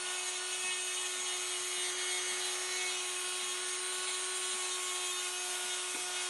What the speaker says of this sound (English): So I'm literally just going to run around, little Dremel with wire brush on.